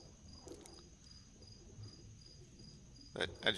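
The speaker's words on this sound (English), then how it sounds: "we're working on the crickets in here." Crickets chirp indoors as a faint, steady high trill running throughout, with a few louder nearby thumps toward the end.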